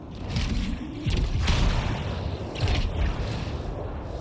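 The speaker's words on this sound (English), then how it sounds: "Got some rough weather out here. Rainy, windy, got like rocks flying everywhere." Rough rainy, windy weather in the Anthem video game, with rocks flying through the air: a steady, loud rush of wind and rain noise with swelling gusts that fills the whole stretch.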